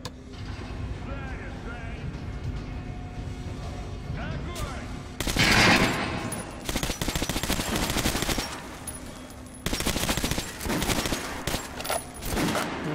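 Repeated bursts of Kalashnikov automatic rifle fire in the video game Metro Last Light Redux, rapid and loud, separated by quieter stretches with faint background sounds.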